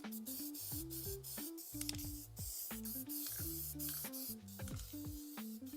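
Seymour Illuma Blast spray paint going onto an engine bracket, a close hissing spray in short, repeated bursts with brief pauses between passes.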